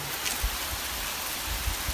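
Steady rain falls, a soft even hiss of drops spread across the whole clip, with a few low thumps and no voices.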